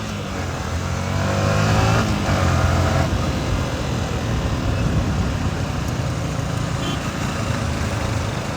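A Yamaha R15 motorcycle being ridden on a rainy road gives a steady engine drone with a brief rise in revs early on, mixed with continuous wind and road rush.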